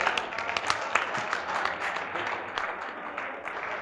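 An audience at a poetry gathering applauds a poet, a steady patter of many hands clapping at moderate distance, sustained throughout with a faint crowd murmur.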